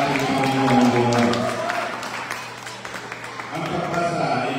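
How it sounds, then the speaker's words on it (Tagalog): A congregation claps for God during a Sunday church service, the dense applause loud at first and then thinning, with a voice speaking partway through. "Pwede pang bigyan natin ng isang malakas na palakpak ang ating Panginoong Diyos."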